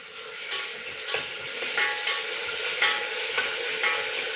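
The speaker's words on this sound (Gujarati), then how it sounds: "જીરું સોતળાઈ જાય એટલે આપણે નાખીશું લસણ આદુ મરચાંની પેસ્ટ" Garlic, ginger and chili paste frying in oil with cumin for a spinach vegetable biryani, a close steady sizzle punctuated by regular stirring clinks about every half second, with no talk.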